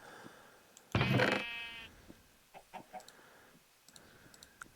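A single loud sheep bleat from Minecraft rings out, followed by quieter scattered clicks and faint animal noises against a mostly quiet background.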